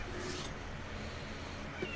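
A pet cat gives a faint, brief meow near the end, heard indoors against a steady room hum without any talk.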